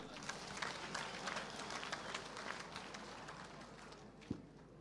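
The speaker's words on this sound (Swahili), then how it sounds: "Tumpigie makofi tena." A crowd at the burial of Field Marshal Muthoni Kimathi in Nyeri claps, a faint, dense, steady patter of applause heard from a distance with no single voice standing out.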